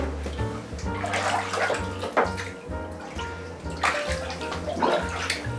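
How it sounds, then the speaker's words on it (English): Someone stepping and sitting down in a water-filled bath, with water sloshing, splashing and dripping in close bursts under a steady background hum. "So I'm just gonna step in the bath here and sit down."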